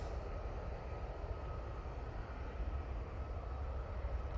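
A Ryanair plane rolls down the runway for take-off at Manchester Airport, heard as a faint, steady, distant jet roar with a low rumble throughout.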